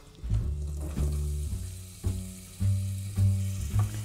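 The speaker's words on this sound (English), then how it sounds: "we're going to add the onion to our olive oil. Give that a stir." Onions sizzling in olive oil on a stovetop, close frying hiss with repeated bursts as they are stirred, no talking.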